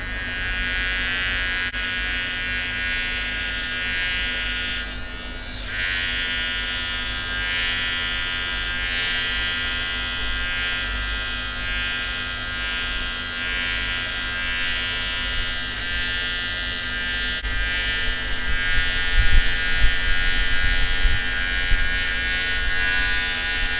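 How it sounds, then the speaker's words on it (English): An electric trimmer shaves facial hair from a dry face, giving a loud, continuous close-up buzz that stays steady for over twenty seconds and swells slightly louder near the end, with no voices. "Just always make sure that your face is dry when you are shaving your face"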